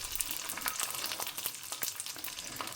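Potato chips frying fresh in hot oil in a home kitchen, a steady close crackling sizzle with sharp pops and spits scattered throughout, no voices.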